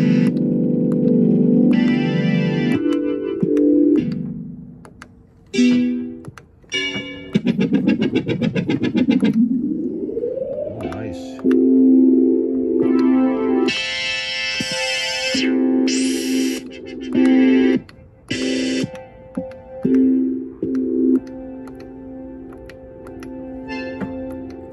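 Patches on a Roland JX-3P early-1980s analog synthesizer play on their own: sustained buzzy tones with chorus and echo effects, a swooping pitch-bent sweep in the middle, and stabbing chords that cut in and out.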